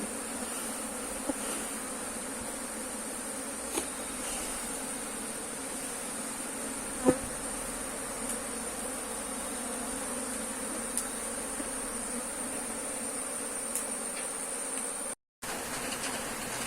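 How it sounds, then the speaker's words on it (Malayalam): Honey bees swarm around beehive frames, filling the air with a steady, close, even buzzing drone that hardly changes in level; no one speaks. "ഫ്രെയിമുകളിലെല്ലാം ഈച്ചയുണ്ട്."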